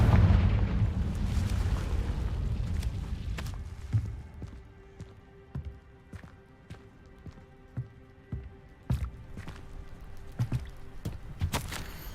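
In Hogwarts Legacy, a Confringo fire spell erupts in a loud, close explosive boom, followed by a series of sharp pops and bursts that fade into scattered crackling impacts.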